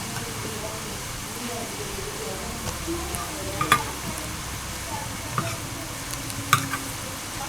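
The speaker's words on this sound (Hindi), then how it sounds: "अब मैं डालता हूँ इसमें अब अदरक और लहसुन कुटी हुई।" Crushed ginger and garlic fry in a pan for a tinda sabzi gravy masala, giving a steady close sizzle with occasional stirring clinks, and no talk.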